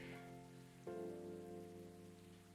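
Steady rain patters across a surface inside the video game Coffee Talk, running continuously beneath sustained, layered music that swells once partway through.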